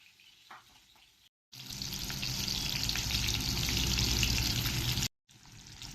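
Soaked lentils hit hot ghee in a pan for a dill greens curry, setting off a loud, steady, hissing sizzle that swells and holds for several seconds between brief quiet gaps.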